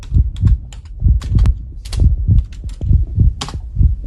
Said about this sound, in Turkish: Yeni klavye aldım arkadaşlar ee, ama bunun tek özelliği tuşlar basmıyor.